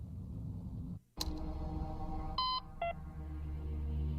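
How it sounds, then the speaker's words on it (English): Short electronic beeps in the Half-Life video game, two brief tonal pulses sounding in quick succession over a steady low ambient game hum, preceded by a sharp click. "Oh, Morse code."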